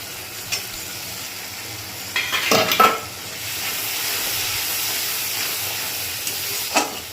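Masala of chilli, salt, turmeric, Kashmiri red powder and whisked yogurt fries in a pan for paneer masala with a steady hiss, interrupted by a couple of short scraping stirs; no voices.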